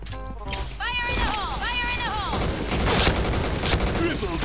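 Gunfire in a first-person shooter video game comes as rapid bursts and impacts over busy game effects, with a brief whooping electronic sound early on.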